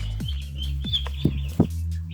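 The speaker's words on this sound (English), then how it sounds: "white meat turkeys that Donnie got me" A white meat turkey poult chirps several times, high thin peeps over a steady low hum, close by and fairly loud, with short gaps between calls.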